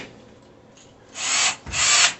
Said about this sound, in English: now we can pre-drill our other 2 holes